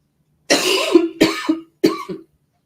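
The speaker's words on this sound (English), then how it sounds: "I am apparently having a coughing fit" Three harsh, hacking coughs in quick succession, close and loud, the first drawn out and the last two shorter.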